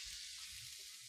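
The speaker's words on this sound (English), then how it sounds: "So here I've got the brown mushrooms that I'm cooking with the shallots" Brown mushrooms and shallots fry in a pan with a soft, steady sizzle, faint and close, with no talk.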